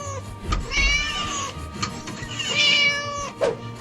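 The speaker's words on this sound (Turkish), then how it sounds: "Yazık kedi kilitlemiş." A cat locked inside meows twice, drawn-out plaintive cries with a shorter squeak near the end, over a low rumbling background with faint knocks.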